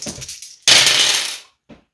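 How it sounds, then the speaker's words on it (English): Six-sided dice roll and clatter across a hard surface in one rattling burst of about a second, close and fairly loud, followed by a brief final click. "we roll 4-sided dice, but I've got the 6-sided dice right at the top"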